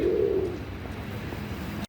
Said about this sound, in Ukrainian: Привіт, голуби.